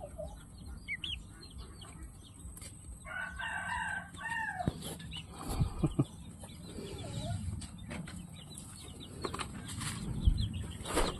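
Turkeys and chickens flapping their wings in repeated bursts, mixed with clucking and a rooster crowing nearby, plus scattered rustling.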